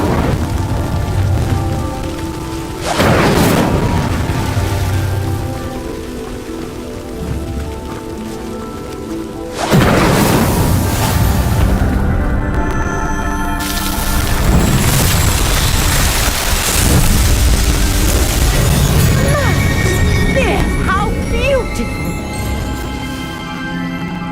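Incendio fire spells in Hogwarts Legacy, heard as loud crackling blasts and roaring bursts over a steady rumbling bed of sound, with two sharp onsets and long rushing decays across the stretch.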